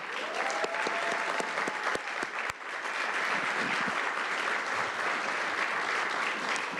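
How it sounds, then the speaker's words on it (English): Sustained, loud applause fills a San Diego County Board of Supervisors meeting chamber, honoring the county's chief administrative officer; dense clapping continues steadily throughout with no speech over it. "Can we give her a big round of applause?"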